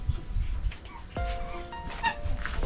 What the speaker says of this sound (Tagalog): May mga aso dito guys.